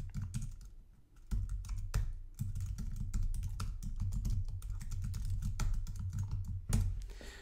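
Fingers type code on a computer keyboard, a close, steady run of quick clicking keystrokes with brief pauses and no talking.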